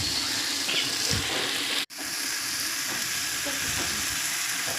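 Tomatoes, curd and lemon fry in a pan for a Kongu-style white chicken biryani, a soft continuous sizzle with faint scraping of stirring and one abrupt brief cut in the middle.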